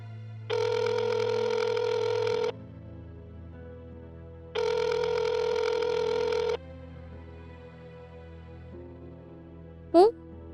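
A telephone rings in two long electronic bursts separated by a pause, followed later by a brief rising chirp; quiet room tone underneath.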